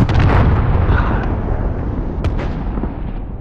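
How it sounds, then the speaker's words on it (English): A loud, deep rumbling blast from a cruise missile strike in Call of Duty: Modern Warfare, sustained and slowly fading, with a sharp crack partway through. "Allied cruise missile launched."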